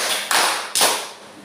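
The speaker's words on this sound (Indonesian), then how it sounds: "Tepuk 3." Two sharp hand claps, close and fairly loud, spaced about half a second apart, each with a short bright decay and no voices.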